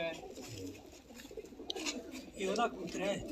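Caged pigeons coo softly in the background while people talk nearby.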